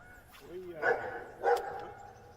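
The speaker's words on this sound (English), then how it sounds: "I think that's my ex-wife's dog" A dog barks a couple of times in the distance, two short muffled yips with soft outdoor background noise, heard from a bass fishing boat on the water in Alabama.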